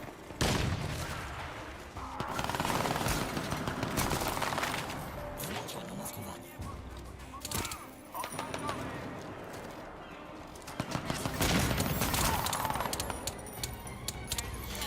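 Gunfire in the video game Crysis 2: repeated bursts and shots crackle through a busy, loud battle mix over about fifteen seconds, with a player talking over the action.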